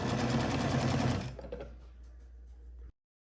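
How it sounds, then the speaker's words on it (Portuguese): A sewing machine stitches around the edge of a double-sided table placemat cover, whirring rapidly and close for about a second before slowing to faint mechanical ticks and stopping. "eu vou costurar em volta todo aqui, para depois virar a nossa peça"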